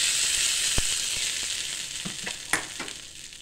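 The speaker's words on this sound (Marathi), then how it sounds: "आपण ह्या चटणीला आता ही फोडणी देतो" Hot cumin and curry-leaf tempering is poured onto chutney for idli, giving a bright sizzle that gradually fades, with a few sharp taps and clinks of the pan nearby.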